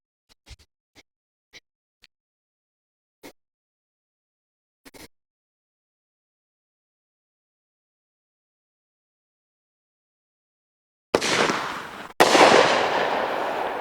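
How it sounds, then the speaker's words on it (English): A TNT Magic Dragon brocade crown single-shot firework: a few faint ticks and pops at a distance, then after a silent stretch a loud launch boom and a sustained crackling, hissing burst. "the next single shot we got is the TNT's Magic Dragon. This is our brocade crown."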